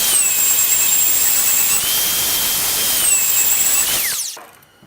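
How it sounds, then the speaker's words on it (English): Belt sander fitted with a 120 grit belt running over a hand-carved wooden sign, a loud, close, high whine with a steady tone that dips slightly under load, then spins down and stops near the end. "Okay, I've swapped the 80 grit belt for the 120. Now I'm just going to do a quick sand."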